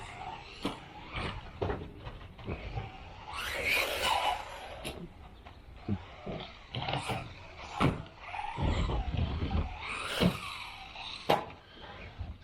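Small 1/18 scale RC cars, a Haiboxing 18859a and a Wltoys 184016, running fast laps: repeated sharp clicks and mechanical clatter over a faint motor whine, with a brief louder whirring burst as a car passes close.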